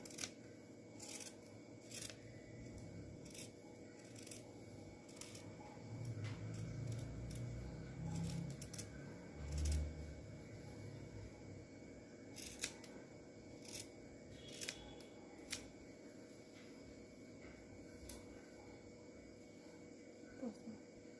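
Scissors snip steadily through fabric along a marked inside line while cutting out a blouse neckline, a run of close, crisp cuts with short pauses and no talking.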